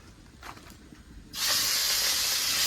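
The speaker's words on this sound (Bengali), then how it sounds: "মাছের মাথাটা দিয়ে দিয়েছি এবার মাছের মাথাটা ভাজা হতে থাকবে" A fish head hits hot oil in a kadai with a sudden loud, steady sizzling hiss that starts after a quiet moment and holds close and strong to the end.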